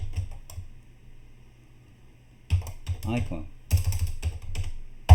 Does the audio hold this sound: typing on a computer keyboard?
yes